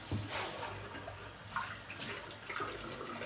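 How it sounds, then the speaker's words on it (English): Hot tap water pours steadily as canning jars are rinsed under the faucet, a close, continuous splashing stream with shifting gurgles and no talking. "I rinsed the canning jars under hot water."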